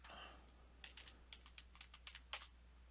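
Quick, light keystrokes on a computer keyboard, a short burst of about a dozen soft clicks typed close up in an otherwise quiet room.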